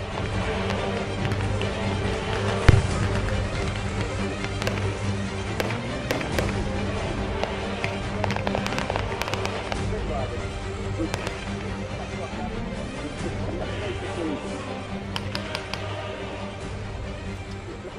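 Gunfire at a World War II battle reenactment in fog, with scattered sharp rifle shots, near and far, popping irregularly over a long stretch while a voice narrates throughout.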